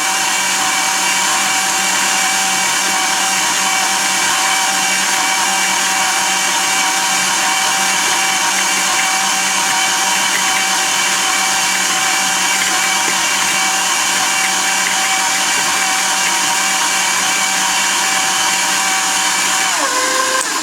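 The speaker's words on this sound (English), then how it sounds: "We're going to go ahead and get those started creaming. I'm just using my regular paddle blade on this today" Stand mixer with a paddle blade creaming butter and brown sugar, a loud constant motor whine and whir holding steady for about twenty seconds, then cutting off.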